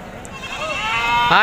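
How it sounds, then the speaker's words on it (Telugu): Large goats bleat at a busy livestock market, a drawn-out wavering cry that swells toward the end, heard close and loud over market background noise. "అక్కడ ఒక పెద్ద సైజు మేకలు ఉన్నాయి అవి మీకు చూపిస్తాను"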